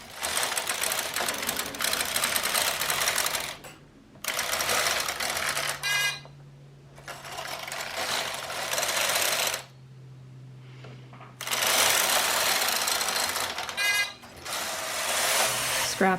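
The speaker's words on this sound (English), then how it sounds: "Always hang as many pieces on the machine as possible. Knit 14 rows of Fair Isle." A knitting machine's carriage sweeps back and forth across the bed knitting rows of Fair Isle, each pass a loud rattling, clattering burst of several seconds separated by brief pauses, close up.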